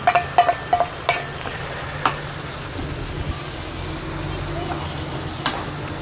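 Two onions fry in a pan while being stirred, a steady low sizzle broken by several sharp utensil clacks at the start and a few later knocks against the pan.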